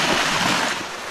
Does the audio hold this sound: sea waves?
yes